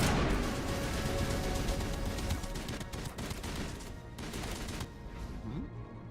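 A Cerberus assault rifle fires in the game Mass Effect Legendary Edition, with dense, sustained rattling bursts that stay loud and continuous throughout and barely thin out toward the end.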